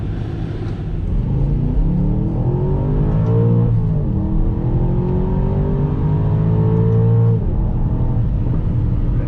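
An Aston Martin DBX SUV accelerates at partial throttle, its engine a steady close rumble with a rising tone that climbs, briefly dips around a gear change, then climbs again. No voices.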